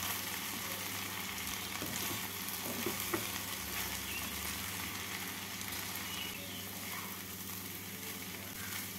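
Flattened rice being stir-fried with vegetables for chirer polao, a quiet, steady frying hiss with a few soft stirring scrapes early on, no talking.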